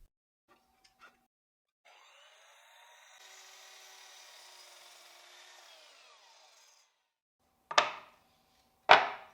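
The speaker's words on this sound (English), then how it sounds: "I'll cut the excess from the board in half" A wooden board is cut in half with a saw, a steady rasping and whirring stretch of several seconds, fairly faint, followed by two short, sharp knocks of wood.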